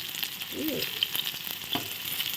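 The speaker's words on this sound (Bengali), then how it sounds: "মাছ ভাজা হয়ে গেছে, এই দেখো হয়ে গেছে" Rohu fish sizzles steadily in hot oil nearby, a constant crackling hiss with a few faint clicks of a utensil.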